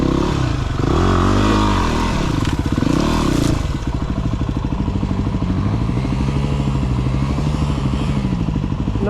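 A Yamaha WR250R enduro motorcycle climbs a wet uphill trail, its single-cylinder engine loud and close, revving and labouring in a pulsing rhythm with clattering from the terrain.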